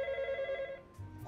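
A telephone rings in an office with a steady electronic ringtone tone, then stops near the end as low background noise and faint movement follow.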